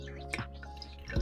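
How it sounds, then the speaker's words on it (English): Green juice made with chlorophyll, chlorella and spirulina drips as pulp is strained out, a few soft, quiet drops and wet squishes close by. "we're going to be straining it to get all the rest of the pulp out"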